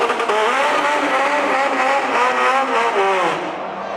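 A 2006 supercharged Chevrolet Cobalt SS and a Mitsubishi EVO drag racing at Englishtown, New Jersey, heard as a loud continuous engine roar with rising, revving harmonics that fades slightly at the end.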